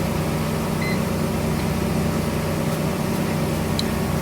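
A grain moisture tester runs empty while it calibrates, giving a steady, close electronic hum with a few faint high beeps and no talking.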